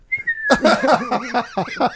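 A person whistles a brief, clear tone imitating a whistled language, which quickly gives way to chuckling and voiced, sing-song vocal sounds close to the microphone.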